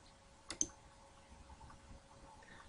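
A computer mouse clicks on a software tab, two quick sharp close clicks in rapid succession, then quiet room tone.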